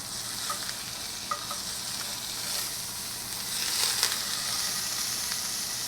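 Duck breast sizzles steadily in a hot pan, a dense crackling hiss with a few small pops and a brief louder rustle partway through as the meat is turned.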